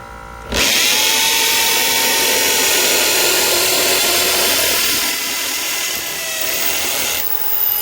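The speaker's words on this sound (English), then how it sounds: "You can see how fast the drill bit goes through." A power drill spins up sharply and bores a pilot hole through PVC railing, whining loud and close for several seconds before winding down.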